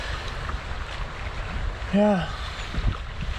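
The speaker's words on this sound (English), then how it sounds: "It's just really windy." Wind gusting at a lakeside campsite in Algonquin Park makes a constant rough rumble over the microphone, with one brief spoken word partway through.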